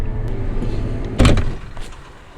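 In a farming video game, the cab door of a Fendt tractor shuts with one short, solid thud over a low engine hum, followed by faint clicks as it locks.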